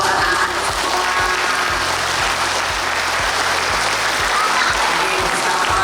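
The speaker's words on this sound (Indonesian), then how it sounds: "Tepuk tangan untuk anak-anak sekolah." Sustained applause from an audience at the opening of a people's school in Semarang, Indonesia, welcoming schoolchildren; steady dense clapping throughout, fairly loud, with faint voices underneath.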